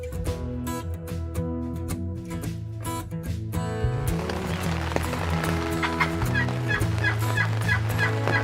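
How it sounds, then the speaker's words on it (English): Wild turkeys gobbling in the field during a spring hunt in Oregon, the gobbles fairly close and repeated in overlapping bursts over steady rustling and movement noise, with no talk. "We're in the middle of the turkeys"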